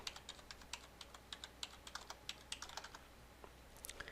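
Quiet, rapid keystrokes on a computer keyboard as an IP address is entered into a Firefox browser, an even run of light clicks heard alone at close range.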